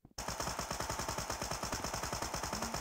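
A Tommy gun firing in a rapid, loud, continuous burst of evenly spaced shots after a brief click, with no pauses and no voices.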